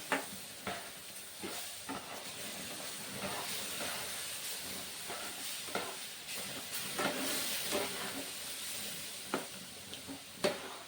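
Continuous scraping and stirring of a semolina mixture in a pan over a steady hiss, with occasional louder clicks of a spoon against metal.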